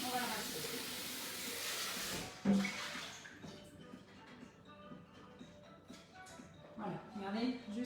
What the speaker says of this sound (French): Alors, rincer le bol.